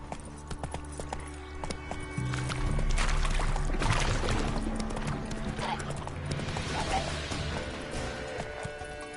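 Roach, Geralt's horse in The Witcher 3, gallops with steady rhythmic hoofbeats and a whinny, the hooves thickening into a faster, louder run partway through, set against game ambience with a voice briefly urging the horse on.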